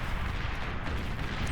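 Tier 2 artillery fires in the strategy game Beyond All Reason, a faint rumbling barrage of low booms blending into continuous battlefield noise over a short stretch.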